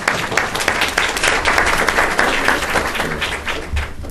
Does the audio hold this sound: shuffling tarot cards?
no